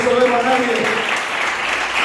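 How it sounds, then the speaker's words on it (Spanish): A church congregation breaks into applause, a brief burst of many hands clapping that briefly overlaps a voice. "un aplauso al Señor"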